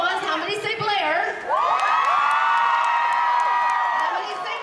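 A fan convention crowd at Super Soap Weekend cheers and whoops loudly, with high excited shouts swelling after a brief dip and holding as a sustained roar, voices overlapping.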